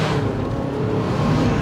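A British racing green Mazda MX-5 roadster with a limited-slip differential drives with the top down, giving a loud, steady blend of engine drone, road roar and wind rush.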